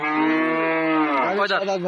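A single long, loud moo from a dairy cow at a cattle market, steady and close, rising slightly toward the end with no other sounds around it.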